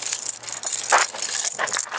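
Metal keys to a 1997 Geo Metro jangle and clink in a brief, busy flurry close by, with a faint low hum underneath.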